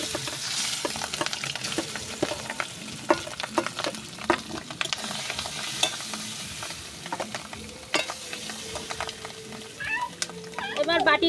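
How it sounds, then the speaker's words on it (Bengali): Spiced rohu fish frying in oil in a wok, a crackling sizzle with repeated sharp pops and spatula scrapes, a cat meowing briefly in the background. "তেল দিয়ে এবার আমি এখানে 10 মিনিটের মতন মাছগুলো রেখে দিয়েছিলাম মশলা দিয়ে, এটাকে আমি কড়াইতে দিয়ে দেবো এখন"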